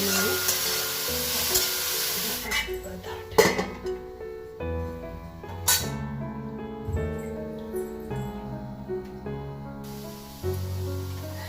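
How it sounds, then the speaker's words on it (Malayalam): Shredded cabbage stir-fried on high flame for a Kerala sadhya dish, sizzling loudly while a utensil scrapes and clanks against the pan in irregular strokes, with faint background music and no talking. "ക്യാബേജ് ഹൈ ഫ്ലെയിമിൽ ഒന്ന് മിക്സ് ചെയ്ത് കൊടുത്തു."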